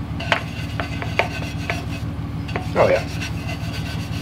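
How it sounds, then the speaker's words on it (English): A brush scrubs greasy metal coated with Zep industrial solvent degreaser, making rhythmic rasping strokes close up over a low steady hum. A person speaks briefly partway through. "I'm gonna take the brush and start hitting this side right here"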